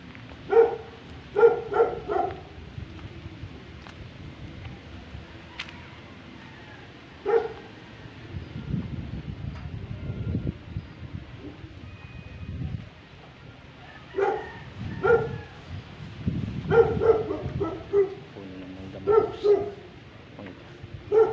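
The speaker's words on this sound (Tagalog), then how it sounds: "May aso pa mga boss, yun hunters." Several hunting dogs bark repeatedly in sharp, irregular bursts, some near and loud, others farther off, with occasional whimpers and yips between rounds and no talking.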